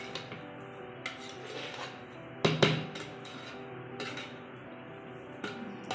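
Cooked vegetable pulao being mixed in a pressure cooker, with a few metallic clinks and scrapes of a ladle against the pot, one louder clang midway, over a quiet steady background.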